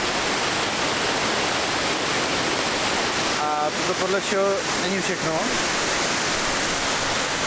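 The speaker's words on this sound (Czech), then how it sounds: "máme vodopád, to je brutální" The Gollinger waterfall in the Salzburg lakes region roars as a constant, loud broadband rush of falling water throughout, while someone speaks briefly over it midway.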